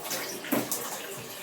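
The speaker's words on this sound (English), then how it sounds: "to rinse your face with as much water as you want to" Running water splashes in short bursts as someone rinses their face at a sink, fairly quiet and close, with no talking.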